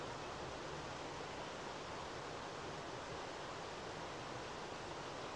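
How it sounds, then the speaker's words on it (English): River water flows steadily past on a walking route near Richmond and Easby Abbey, a broad, constant rushing wash heard alone without voices. "Just listen to the movement of the water."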